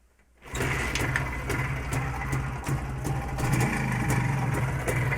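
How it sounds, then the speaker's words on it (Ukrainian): A Jawa 350 motorcycle, a model that will not rev up, is kick-started and catches almost at once, settling into a steady, close, rattling two-stroke idle that carries on alone. "Як на БКС заводиться мотоцикл. Открываю краник, включаю зажигание, нажимаю кикстартер."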